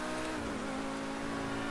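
Pegassi sports car in GTA V Online accelerating hard, a steady high engine roar that climbs in pitch, heard alone and fairly loud.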